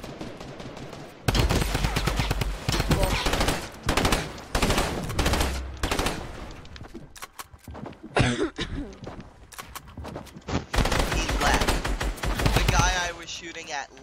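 Fortnite gunfire rattles in rapid automatic bursts and single shots, close and loud, repeating across the scene with short pauses between volleys.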